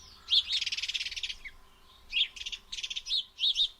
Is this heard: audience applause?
no